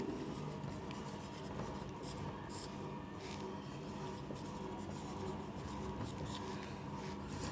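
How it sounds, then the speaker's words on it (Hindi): Pen writing by hand during a history lesson, a steady faint scratching texture running continuously at low level throughout. "तो यहाँ हम लिखेंगे राजशक्ति"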